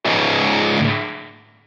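An electric guitar played through a TSE X50 amp plugin set for distortion rings out in a single loud, saturated chord that sustains briefly and then fades away.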